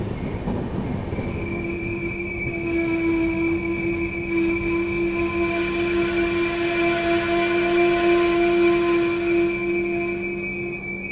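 The Yesvantpur-Gorakhpur Express runs along the line with a loud, continuous rolling rumble, overlaid by sustained high metallic wheel squeal that holds steady throughout.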